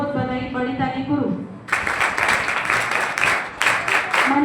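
Audience applause at a student award ceremony honoring 12th board exam achievers, bursting in loudly partway through after a stretch of speech and music, then continuing as dense, sustained clapping with a brief dip before swelling again.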